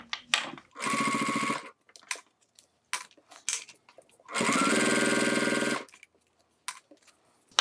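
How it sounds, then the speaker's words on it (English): A sewing machine stitching a wristlet bag strap runs in two close bursts, one short and one longer, with quiet handling clicks and rustles in the pauses between them. "Now we can sew carefully around here all the way."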